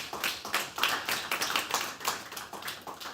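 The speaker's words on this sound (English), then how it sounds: "so let's give them a big round of applause." A small conference audience claps in thanks, steady individual hand claps close by, moderately loud and unbroken by talk.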